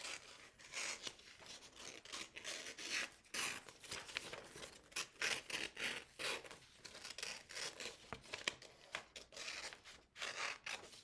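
Scissors snipping through paper while a duck shape is cut out, a steady series of close, soft cutting and rustling strokes with no talking.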